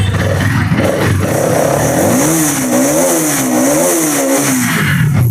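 A Bajaj Pulsar NS200 motorcycle engine idles and revs steadily up close, its pitch rising and falling in smooth waves before settling back, loud and continuous throughout with no talking.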